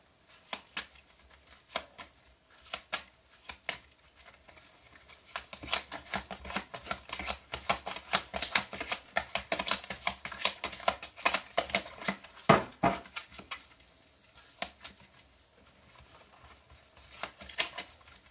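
Marseille tarot cards being shuffled by hand, a quiet run of rapid papery riffles and soft slaps coming in bursts, close up and without talk.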